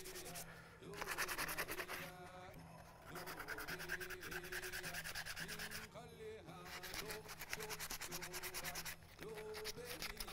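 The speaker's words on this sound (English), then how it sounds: "Get some sandpaper and things for just that a little bit." Sandpaper rubs along a wooden stickball stick in quick, raspy back-and-forth strokes that run nearly without a break, close and steady, with a few short pauses.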